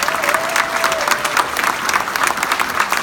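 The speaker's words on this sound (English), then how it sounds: "And I would like a round of applause for them." Loud, dense applause from an audience at a ceremony honouring a New York City schools educator, steady clapping close up throughout.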